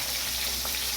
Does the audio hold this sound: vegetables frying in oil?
yes